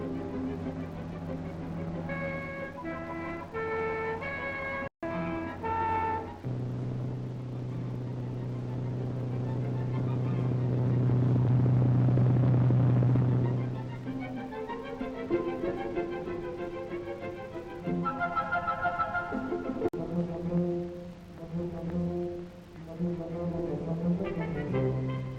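Cars of the 1950s driving along a Swiss mountain road, engines rising to a loud drawn-out drone at the middle, with steady tonal motor hums before and after, heard under music.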